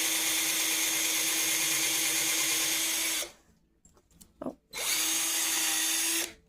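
A power drill bores into a light-up bullet table in two long, loud, steady whirring bursts. A short pause with faint handling knocks separates the bursts.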